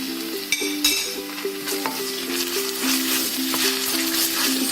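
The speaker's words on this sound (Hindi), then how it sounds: "इसको भी 1 से 2 मिनट भून लेते हैं ऑनियन के साथ।" Ginger garlic paste frying with browned onions for chicken biryani, a close sizzle with a spatula stirring and scraping the pan, a few sharp taps, while gentle background music plays throughout.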